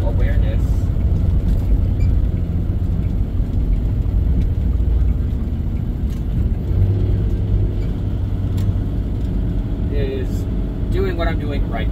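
A car engine drones low and steady throughout a drive, the road and engine noise continuous and fairly loud, with someone talking over it.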